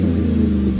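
A 2010 GMC Sierra with a Vortec 5.3 V8 and a Flowmaster exhaust gives a brief, loud, steady deep engine rumble, close by and alone.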